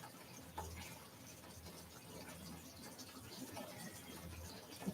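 Faint continuous bubbling comes from shakshuka simmering gently in a pan, a soft, even hiss with occasional small pops and no one speaking.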